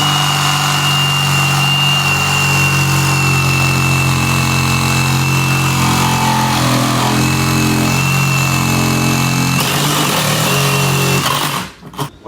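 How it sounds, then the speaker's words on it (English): A reciprocating saw cuts through screws in a rotted wooden door jamb, a loud, continuous buzzing drone with a steady motor tone that shifts slightly near the end before cutting off abruptly. "we're now going to come in with a sawzall and remove any screws that may be in place."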